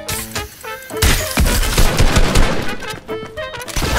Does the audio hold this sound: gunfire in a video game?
yes